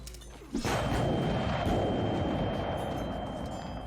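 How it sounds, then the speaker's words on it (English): Video game gunfire in Sir Brante: a sudden loud burst erupts after a short pause, followed by a dense, rumbling barrage that rolls on continuously. "The deafening cracks of gunshots echo throughout the streets."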